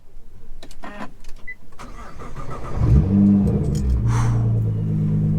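A Nissan GT-R Track Edition's V6 engine cranks and fires up, settling into a deep, steady rumbling idle after a few quiet clicks and knocks.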